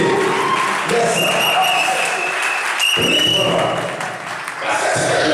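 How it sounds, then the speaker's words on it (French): A church congregation applauding, a sustained wash of clapping from a crowd that dips briefly and swells again, with voices mixed in. "Acclame Jésus."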